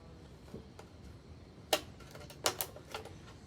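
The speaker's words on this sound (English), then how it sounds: "I'm going to use the scissor to cut" Scissors snipping into a small plastic bottle, a few sharp crisp cuts in quick succession, close and fairly quiet against a low background hum.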